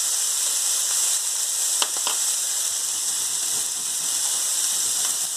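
Garlic sizzles with pine nuts in a hot pan, a steady close hiss of frying with a couple of brief clicks partway through, no voices.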